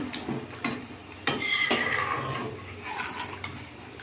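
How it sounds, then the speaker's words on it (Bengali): Hot water poured into a pan of frying mutton and potato curry, with a sudden hiss and bubbling followed by clinks of a utensil against the pot, close and moderately loud. "এবার একটু গরম জল দিয়ে দেবো"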